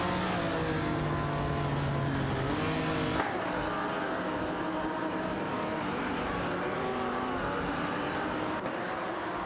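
Race cars in an AI racing video game drone and whine close by, engines holding steady tones that shift in pitch as they jostle for position, a continuous layered motor hum.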